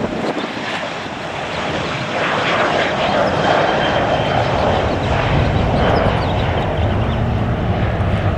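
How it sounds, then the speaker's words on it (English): A passenger plane's engines roar near LAX, a loud, continuous broadband rumble that swells and sustains as the aircraft passes close by, with wind buffeting the microphone and someone speaking briefly over it. "I hear another engine."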